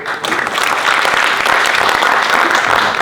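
A crowd at a nighttime religious gathering in Jogja breaks into loud, dense applause that stays full and sustained for several seconds, close and energetic.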